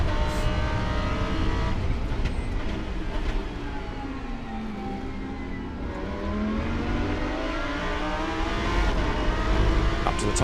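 A Lamborghini Super Trofeo race car accelerates out of a chicane over the curb at Jerez, its loud engine note climbing and falling through gear changes as it drives close and steady throughout.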